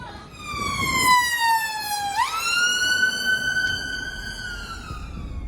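A wailing siren sweeps down in pitch, jumps back up and holds a steady tone as an ambulance passes along a town street near a Tesco Express, loud and clear over low traffic rumble.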